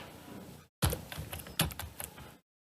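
Keystrokes on a computer keyboard as a Java compile command is typed at a command prompt, a quick burst of close, crisp clicks after a short pause, with no talking.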